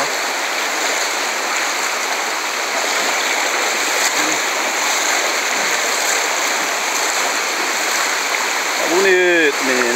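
Loud, steady roar of the flooded Urucuia River in Brazil rushing past close by, continuous throughout, with a brief voice near the end.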